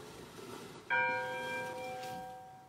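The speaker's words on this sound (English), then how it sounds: "Did y'all hear the church bell?" A single church bell is struck once and rings out gently, its bright tone hanging and slowly fading over a quiet, faintly hissing background.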